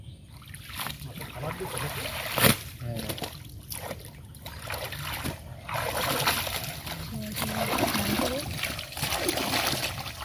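Water splashes and sloshes as someone bathes at a river ghat, a continuous close wash of splashing with one louder slap, while people talk nearby.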